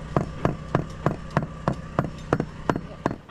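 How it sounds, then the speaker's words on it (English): Hammer taps on epoxy freshly poured into holes aboard a sailing boat, about eleven sharp, evenly spaced knocks, close and fairly loud, with no talking. "now we're just hammering it to make sure there's no air bubbles in there"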